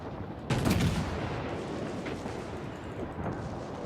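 Secondary guns of the battleship Mikasa in World of Warships open fire in a sharp loud burst, followed by a rumbling roll of continued shots and booms fading into steady background noise.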